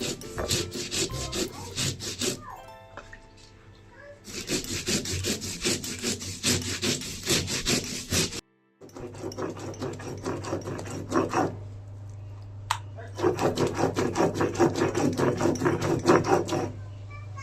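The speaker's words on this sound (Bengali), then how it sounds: "এখন সব বেটে নেব। শিলনোড়ায় বেটে নিলে ভালো হয়, মিহি হয়" Spices with poppy seeds being ground by hand on a flat shil-nora stone with a stone pestle for a fish paturi, giving close, rhythmic scraping strokes in long bursts with brief pauses between.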